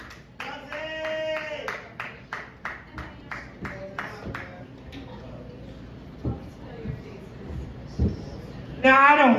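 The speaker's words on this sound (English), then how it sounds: "Please make some noise for Budsy." Scattered clapping from a small bar crowd greets a comedian at an open mic night, a string of distinct hand claps that thins out while a voice talks over it.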